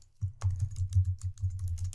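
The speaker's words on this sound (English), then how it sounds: "I'm typing" Fast typing on a computer keyboard, a continuous stream of soft, close key clicks and thumps in an uneven rhythm, quiet and with no speech over it.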